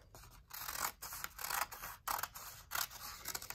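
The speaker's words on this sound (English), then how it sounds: "get a pair of scissors, and I'm just gonna go ahead and cut that off." Scissors cut a strip off folded paper in a fold-along craft, a close series of sharp snipping strokes about every half second, quiet and alone.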